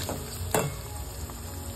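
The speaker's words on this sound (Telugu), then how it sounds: "అయితే ఇప్పుడు బెండకాయలు అయితే యాడ్ చేసేసుకుంటున్నాం." Okra tossed into a pan of onions, ginger-garlic paste and turmeric frying in oil, giving a steady soft sizzle with one brief louder burst as the pieces land, close and alone without talk.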